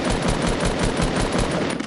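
Rapid automatic gunfire in a shooter video game, a loud continuous stream of evenly spaced shots filling the whole moment with no voice over it.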